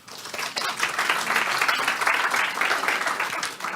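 Audience applause at a mindfulness lecture series, a full room clapping steadily at close range, swelling in quickly and holding an even, dense patter throughout.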